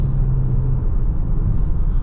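A Ford Explorer ST engine rumbles steadily from inside the cabin while driving, a deep continuous drone with exhaust-like tone, loud and even with no talk over it.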